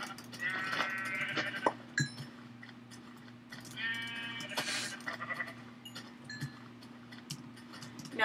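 Sheep in Minecraft bleat in short repeated calls, fairly close, over a steady background hum with scattered clicks and no talking.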